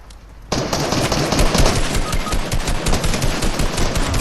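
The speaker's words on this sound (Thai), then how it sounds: "มีคนยิงมาจากไกลๆเนี่ย" Gunfire in the video game Fortnite, a sudden burst of rapid automatic shots followed by sustained loud rattling volleys that keep pulsing steadily.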